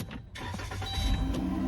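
A 2015 Dodge Caravan engine cranks and catches after a battery replacement, then settles into a steady idle. It is heard close and loud with no talking.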